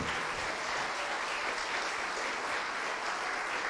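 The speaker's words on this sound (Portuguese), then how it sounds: "vamos aplaudir ao Senhor Jesus enquanto eles estão chegando." A church congregation applauds together during a worship service, a dense, steady wash of clapping that fills the room evenly and without a break for the whole stretch.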